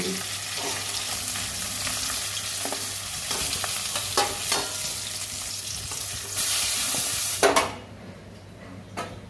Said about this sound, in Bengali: মাছটা ভাজা রেখে তুলে নিচ্ছি